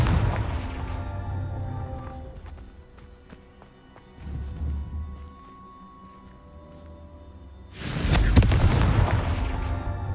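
A Confringo explosive spell cast in Hogwarts Legacy, ending in a loud, close blast with a rushing roar and crackle, preceded by a fading burst and a softer low rumble amid game ambience.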